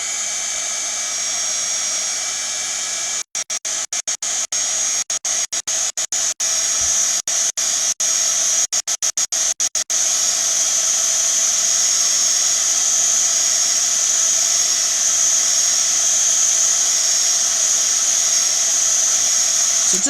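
A hair dryer drying the surface of a craft piece, a loud continuous blowing roar with a high-pitched whine, briefly stuttering on and off early before running steadily to the end.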